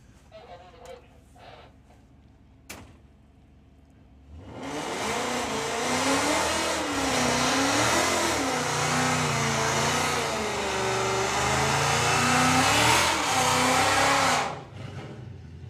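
A drag racing car launches at a sportsman nationals and street event, its engine rising suddenly to a loud, sustained roar as it accelerates down the strip for about ten seconds before cutting off, with quieter ambient noise before the run.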